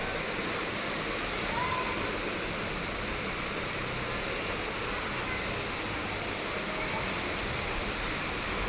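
Steady rain pours down in Pune, the first rain of the season there, a dense, even hiss of falling water that stays continuous and fairly loud throughout, with no voices over it.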